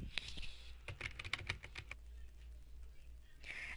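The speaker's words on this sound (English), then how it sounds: "I'm just going to type in the stages of my butterfly" Quick, irregular bursts of keys clacking on a computer keyboard, fairly faint and close, with short pauses between runs of taps.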